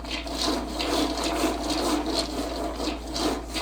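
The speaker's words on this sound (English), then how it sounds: "Give that a very quick stir." A spoon or spatula gives peanut burger mixture a quick stir, a soft repeated scraping and rubbing that swells and fades in a steady rhythm, close and moderately loud with no talk.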